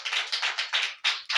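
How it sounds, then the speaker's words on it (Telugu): Clapping from a church congregation, a series of sharp bursts of handclaps in an uneven rhythm with short gaps, fairly close and without talk. "చప్పట్లు కొట్టండి ఒకసారి గట్టిగా."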